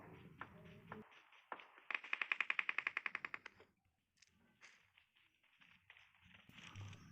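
A rapid burst of automatic gunfire in the mobile game PUBG Mobile on the Erangel map, about a dozen evenly spaced sharp shots, then quieter scattered clicks and movement sounds.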